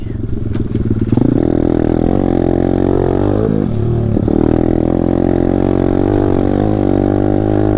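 A motorcycle engine held at high revs while the bike is lifted and held in wheelies, loud, close and continuous, with pitch dips and surges and some clatter.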